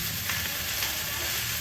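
Steady close sizzle of cauliflower curry frying in a pan after a splash of water is added, a continuous hiss with faint stirring and no voices.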